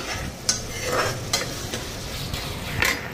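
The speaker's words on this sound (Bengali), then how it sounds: "জিরা ধনিয়ার গুঁড়া কাঁচা লঙ্কা দিয়া আগে একটু মশলাটা ফ্রাই করে নিতেছি তেজপাতা দিলাম" Cumin, coriander powder, green chilli and bay leaf frying in a pan for a vegetable dish, a steady close sizzle broken by a few sharp stirring scrapes and clinks.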